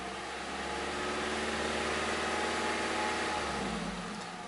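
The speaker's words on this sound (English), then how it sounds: "This is revving it up in park." A 2010 Nissan Rogue AWD engine with a failing CVT revs in park, a moderate engine hum swelling and then easing off, heard from inside the car without speech.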